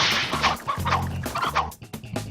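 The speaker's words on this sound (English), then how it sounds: "The chicken's eating the monster." A chicken on a film set clucks in quick, choppy bursts close by, with sharp slaps and thwacks mixed among the calls and no talk over it.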